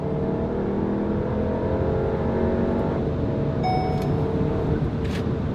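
A 2019 Volkswagen Tiguan R-Line Sport accelerates and shifts up through its gears, its engine giving a steady, continuous drone with a brief change in pitch midway, heard close and without talk.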